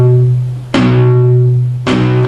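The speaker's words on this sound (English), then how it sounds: "you can hear that it's muted the sound, it's deadened it" Electric guitar power chord with palm muting, struck twice with a dull, deadened attack and a short damped ring, loud and close with no voices.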